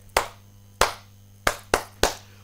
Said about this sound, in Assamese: এটা জোৰদাৰ হাত চাপৰি ৰঞ্জিত কুমাৰ দাসৰ বাবে